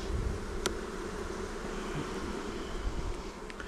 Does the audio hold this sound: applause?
no